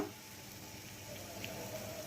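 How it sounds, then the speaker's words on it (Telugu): Dried red chillies fry in hot tempering oil for a buttermilk curry, giving a steady, soft, close sizzle with faint crackle that holds evenly throughout, with no talking. "ఎండుమిరపకాయల కలర్ మారిపోయింది అంటే అంత వేగిపోయినట్టు లెక్క"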